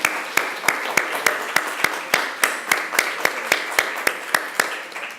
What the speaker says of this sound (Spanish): con este aplauso le agradecemos su participación